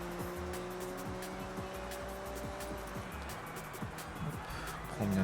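A race car in the Forza Horizon 6 video game takes a corner with a steady engine drone and tire noise that rises slightly toward the end.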